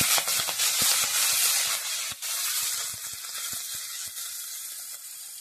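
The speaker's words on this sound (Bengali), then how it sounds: "এরপর কপি ডাঁটাগুলো ভেজে নিচ্ছি।" Cauliflower stalks frying in hot oil, a bright close sizzle with rapid popping crackles that eases slightly over a few seconds, no one speaking.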